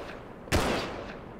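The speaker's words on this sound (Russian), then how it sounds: "А, это винтовка." A single loud rifle shot goes off in the online survival game Rust during a raid, then a brief decaying tail.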